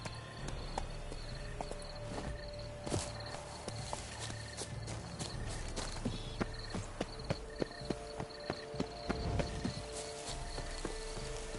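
A horse's hooves clip-clop at a walking pace while ridden in a video game, a soft, fairly regular run of hoofbeats under insect and cricket ambience with a few louder knocks.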